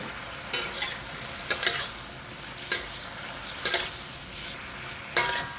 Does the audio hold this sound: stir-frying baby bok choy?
yes